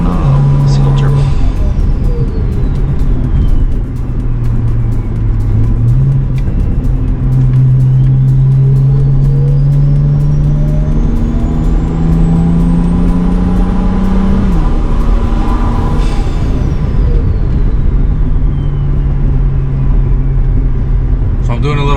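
BMW 335i with a stock exhaust on a single turbo setup drones steadily and loudly, rising and falling as it revs through gears under constant road noise.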